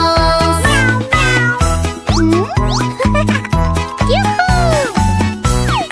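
A singing voice imitates cats meowing in a children's farm-animal song, with a string of sliding, catlike meows repeated in rhythm over a bright, bouncy musical backing with a steady beat.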